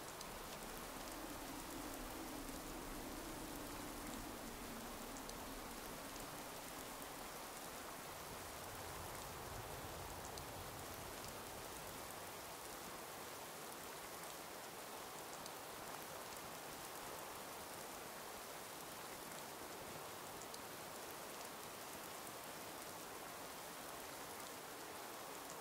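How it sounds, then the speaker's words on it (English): Steady rain falls in Fallout 4 as an even, continuous hiss with no talking, holding a constant level throughout. "Man, this raining, it's insane."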